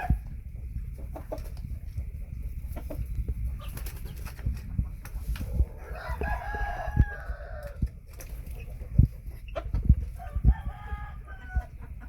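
Phoenix chickens and young stags cluck and crow in a farm setting, with a crow rising partway through and scattered clucks over a low rumble of outdoor noise.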